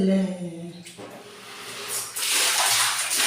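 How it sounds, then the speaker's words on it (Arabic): Water rinsing over a detached kitchen window, starting with a brief tonal scrape and then a rising broadband splash and hiss of running water that grows louder toward the end. "الشباك اهو وشطفه بالميه"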